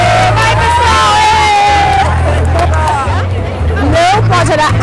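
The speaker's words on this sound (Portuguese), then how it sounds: "Pessoal, cadê a torcida da Rita?" A studio audience on a Portuguese-language quiz show cheers and whoops for contestant Rita, a loud sustained mix of yells and babble. A steady low hum runs underneath.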